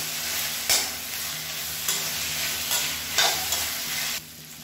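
Onions, red chillies and mint sauté in oil in a pan, a steady close sizzle broken by several scraping stirs of the spoon.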